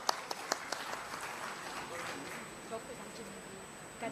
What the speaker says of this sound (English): Can we all have a huge round of applause for sir?